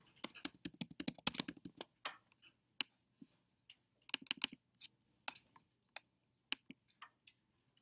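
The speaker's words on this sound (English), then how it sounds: "Oh, I can't type with these." Someone types on a computer keyboard in a quiet room, with quick bursts of clicking keystrokes and then slower, scattered single taps. The clicks are close but soft, and no one talks.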